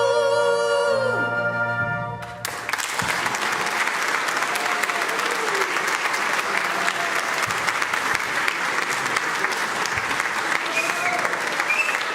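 Applause for the performers at a tribute concert swells the moment the music stops, a dense, steady clapping from a large audience that carries on loudly for about ten seconds.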